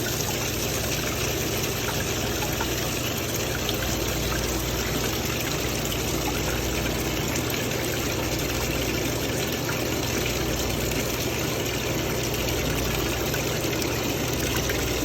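Used oil runs out of a commercial fryer's drain once the lever is pulled, a steady continuous pouring and gurgling flow lasting throughout, even in level, with no speech.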